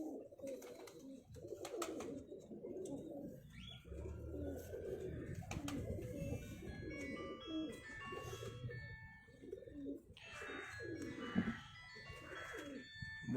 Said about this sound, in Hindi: जालदार कबूतर है माशाल्लाह।